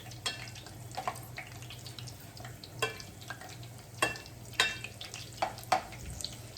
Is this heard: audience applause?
no